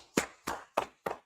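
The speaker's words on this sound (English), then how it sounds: "Clap it up, clap it up." Four crisp hand claps in an even, deliberate rhythm, each a sharp close burst with a short decay, clear and alone with quiet gaps in between.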